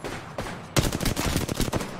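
Rapid bursts of gunfire in an Apex Legends firefight, a quieter shot or two, then a loud rattling volley of closely spaced shots running to the end, with no talk over it.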